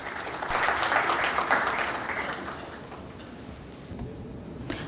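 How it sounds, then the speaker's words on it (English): Seminar audience applause for a speaker at a one-day AI session, a dense wash of clapping that swells early, then thins and fades toward the end. "let's really give a big round of applause to the new speaker as well"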